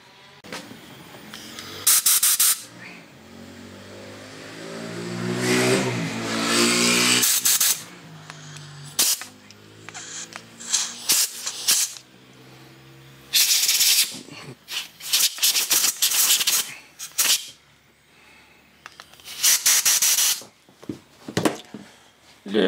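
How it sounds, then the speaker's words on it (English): Compressed air blowing in short, loud bursts into a Suzuki DT 25 outboard motor during repair, each broadband hissing blast a second or two long, separated by brief pauses and lighter clicks, with no talk. "Little bit compressed air in there"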